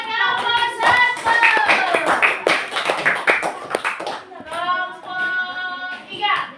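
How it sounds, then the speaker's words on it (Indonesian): Children in a classroom clap together for a group that got question number one right, a dense burst of hand claps with a teacher's voice and children's voices over and between the claps. "Tepuk tangan buat nomor 1."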